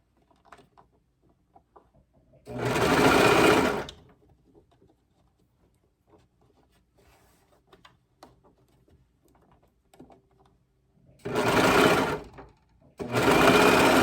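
A serger stitches quarter-inch elastic in several short bursts of rapid mechanical whirring, separated by quiet pauses filled with faint handling noises.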